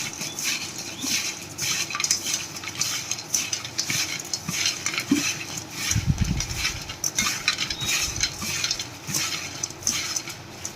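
French fries tossed with peri peri masala in a metal pan or bowl, giving steady close clinks and scraping of a utensil, with a few soft rattling knocks and no voices.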